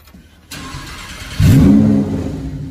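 A Lamborghini Huracan Evo Spyder with a Novitec exhaust starts up close by: a sudden loud catch, then a sharp rev that swells to a roaring peak before settling into a steady, heavy idle.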